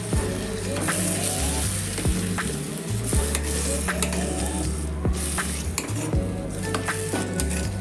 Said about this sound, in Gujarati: એની અંદર ટામેટાની પ્યુરી નાખીશું અને હવે સારી રીતે મિક્સ કરી લઈશું